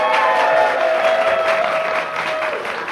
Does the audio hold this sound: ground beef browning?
no